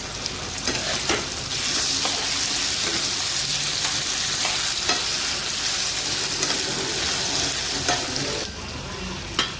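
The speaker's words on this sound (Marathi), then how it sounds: "बघा मिरची टाकली आणि टॅमॅटो टाकला हे बघा चला शिजून घेऊ" Chili and tomato fry in a pan with a loud, steady sizzle that rises early and drops near the end, while occasional stirring clicks cut through and no one speaks.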